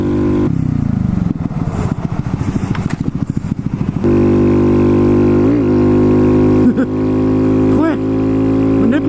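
Honda Grom motorcycle with a 14/37 sprocket setup roaring at full throttle on a highway, a loud, steady close engine drone with wind rush, brief clutch-slip rev surges, and speech faintly over the engine.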